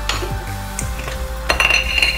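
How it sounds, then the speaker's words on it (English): Wheat flour mixture stirred in a pot for a white sauce, the spoon scraping and clinking against the metal in short uneven strokes, close and fairly quiet with a faint sizzle beneath. "now I am putting wheat flour mixture, and then you have to stir it continuously"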